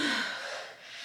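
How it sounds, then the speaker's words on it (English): A single sharp, breathy gasp for air after climbing stairs while moving into an empty apartment, close and loud, fading into a short exhale. "I'm gasping."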